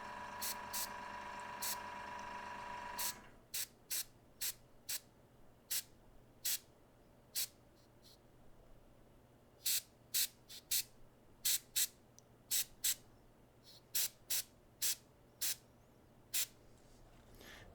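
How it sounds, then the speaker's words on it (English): Light airbrush paint spray, short repeated hissing bursts, about a dozen spaced puffs after a steadier opening spray, close and fairly quiet over a faint compressor hum. "it's real light spray."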